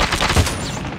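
Sniper rifle gunfire in a first-person shooter video game on the Nuketown map, heard as a short, loud, sharp blast with a brief crackling tail.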